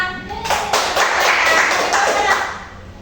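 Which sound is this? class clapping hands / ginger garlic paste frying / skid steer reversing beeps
class clapping hands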